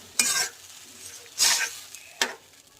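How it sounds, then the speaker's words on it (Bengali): Water poured into a pan of fried rita fish for a spicy tomato curry bursts into three loud, short hissing sizzles, each fading quickly into a quiet simmer. No voices. "এবার আমি পরিমাণ মতো জল দিয়ে দিলাম"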